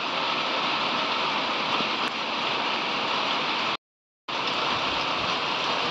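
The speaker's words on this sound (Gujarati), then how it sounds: "અત્યારે સવારમાં પણ વરસાદ છે." Heavy morning rain after a night-long downpour, a steady dense hiss of falling water that continues without break, cut briefly by a short silence before resuming at the same level.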